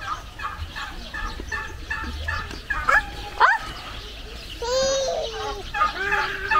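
A turkey gobbles in several bursts, close by, at Clark Safari and Adventure Park, with a voice and other chatter mixed in between the calls.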